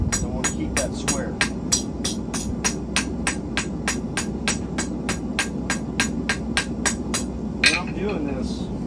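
Blacksmith hammering hot square metal stock on the back side of an anvil while forming a hook and nail, a quick, regular run of ringing metallic strikes, close and loud, over a low room hum.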